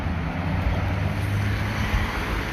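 Several cars pull away from a roadside confrontation, a steady low engine and road rumble with wind buffeting the microphone throughout.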